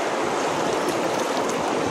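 The Yamuna river flowing, a steady close rush of running water with an even broadband hiss that holds constant for two seconds and has no voices over it.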